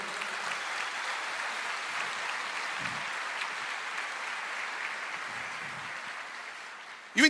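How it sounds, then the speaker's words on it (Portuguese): Church congregation applauding during a sermon, steady moderate clapping throughout that swells into a brief louder burst at the very end. "Você pode aplaudir o Senhor?"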